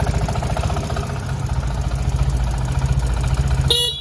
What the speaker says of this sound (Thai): เครื่องยนต์นิ่งเรียบนะครับ